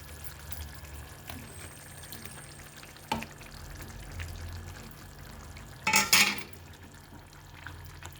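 Elephant foot yam pieces frying in a pan make a quiet, continuous sizzle, with a soft clatter near three seconds and a louder burst of hissing around six seconds as the pieces stir in the hot oil.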